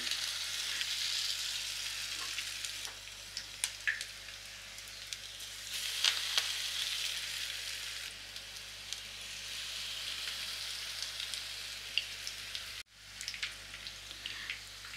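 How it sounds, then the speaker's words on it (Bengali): Noodle pakoras fry in hot oil in a wok, giving a continuous crackling sizzle with scattered pops and spits that rises and eases over about fifteen seconds, briefly cut out near the end; no one speaks. "তেলটা গরম হয়ে গেছে। এবার ভেজে নেব।"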